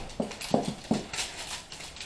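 A dog whimpering in a room, three short whiny yelps in quick succession over a low background hum, close by and fairly loud.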